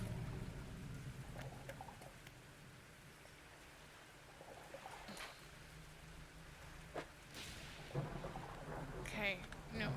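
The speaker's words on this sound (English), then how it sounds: "Maybe it's just the storm." Rain and rolling thunder from a storm in the fishing video game Dredge, a quiet, steady patter with low rumbles and scattered sharper cracks, with faint voice-like sounds mixed in.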